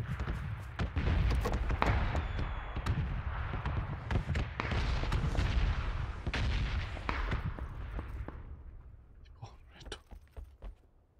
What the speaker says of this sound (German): Explosion ist recht weit weg.